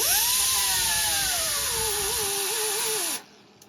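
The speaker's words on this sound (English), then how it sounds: "Grinding the paint off a little bit more." A grinder strips paint off the floor pan of a Chevelle under restoration, a steady high hiss with a whining tone that slowly drops in pitch, then cuts off abruptly near the end.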